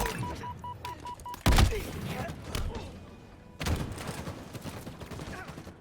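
Halo-style video game gunfire heard as two sharp, heavy bursts of shots, one early and one later, mixed in with game effects and a commentator's voice running underneath.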